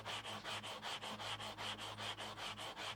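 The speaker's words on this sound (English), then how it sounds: "going at it with a sanding block" Steady back-and-forth rubbing of a sanding block with adhesive-backed sandpaper on a wooden guitar neck, about four strokes per second, close and continuous with a faint low hum underneath.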